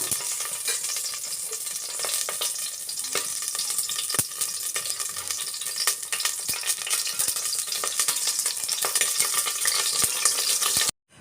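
Cooking oil heats in a pan with a steady, close frying sizzle and occasional light crackles and stirring clicks, running without speech until it cuts off abruptly.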